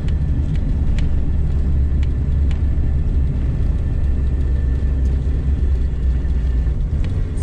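An old Toyota RAV4 engine pulls uphill in second gear on a twisty road, a loud, steady, low droning rumble that holds level throughout, with no talking.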